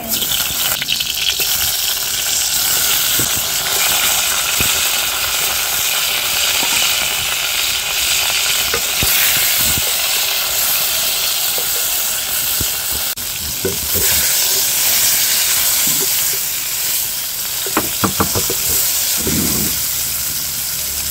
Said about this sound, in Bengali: যেহেতু আস্ত পটল ভাজছি তাই এটা সময় নিয়ে ধীরে ধীরে ভাজতে হবে